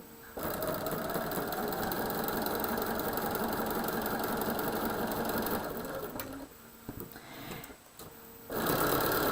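A sewing machine stitches holiday quilt blocks made by the sew-and-flip method, running in a steady, close, continuous whir for about six seconds, pausing with faint handling noises, then starting up again near the end.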